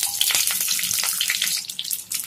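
Green chillies and nigella seeds frying in hot mustard oil, a steady close crackling sizzle with bright spitting pops throughout.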